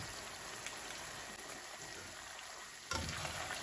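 Food frying in a pan on a stove while it is stirred now and then, a steady soft sizzle with faint scraping, and a brief louder burst of sizzling near the end.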